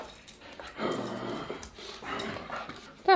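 A dog whimpers and makes short whiny vocalizations close by, in a few bursts with brief pauses between them.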